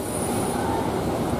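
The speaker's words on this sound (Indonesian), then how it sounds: "Tawang Jaya Premium." The Tawang Jaya Premium passenger train rolls by close, with a brief burst of high wheel squeal over dense, loud rail rumble.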